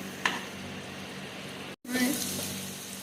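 Fish coated in poppy seed paste sizzles steadily in a covered pan, a continuous close frying hiss with one sharp crackle early on and a brief drop to silence before the sizzle resumes.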